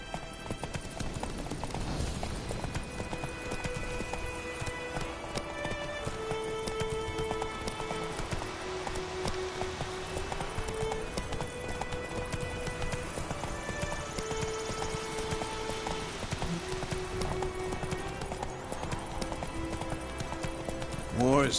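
Horse hooves clip-clop steadily at a gallop as a horse is ridden in a video game, a continuous rhythmic patter under game music and voices talking.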